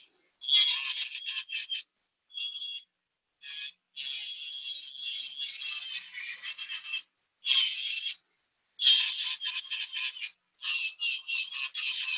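Electric nail drill with a ceramic bit filing a nail, a thin high-pitched rasping whir in repeated short passes broken by brief pauses, close and steady with no voices.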